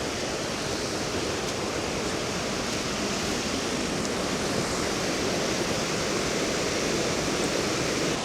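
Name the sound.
Hareshaw Linn waterfall, very full after rain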